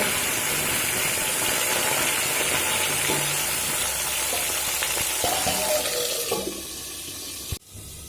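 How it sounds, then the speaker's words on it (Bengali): Steady hissing sizzle of pointed gourd frying in hot oil in a pan over a medium flame, continuous and fairly loud, fading near the end with a brief clatter. "একটা কড়াইতে আমি পটল ভাজা বসিয়ে দিয়েছি"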